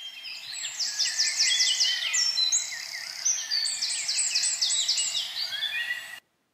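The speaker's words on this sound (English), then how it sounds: "Another small bird that makes loud noises, the wren. It has a very loud voice." A wren's loud song plays back from a recording: two long bursts of rapid, high, trilling notes, bright and forceful, running almost without a break before cutting off abruptly.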